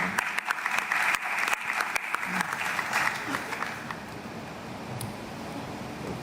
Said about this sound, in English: We can clap hands for him as well.